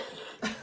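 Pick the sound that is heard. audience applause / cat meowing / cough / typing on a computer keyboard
cough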